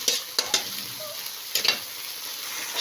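Shrimp paste (alamang) sautéing in a pan for Bicol Express, a steady bright sizzle with a few scraping stirs of a utensil against the pan, close up and without talk.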